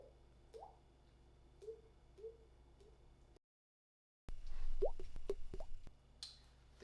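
Someone imitates small water droplets with their voice, producing a few soft plops and drips, then a brief silence before a louder cluster of wet, squishy mouth pops.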